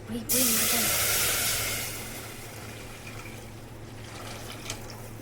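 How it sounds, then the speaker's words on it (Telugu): Water from a bottle pours into a hot pan with a sudden loud hissing rush of steam that fades into a steady low simmer, heard close up for making kheer. "ఇప్పుడు మనం అయితే వాటర్ యాడ్ చేద్దాం ఫ్రెండ్స్"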